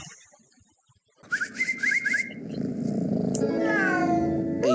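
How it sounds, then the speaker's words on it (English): An alley cat in an animated film purrs and meows, with rising whistle-like calls over a loud, continuous rumbling purr that builds and holds, and no one talking. "that's just an old alley cat"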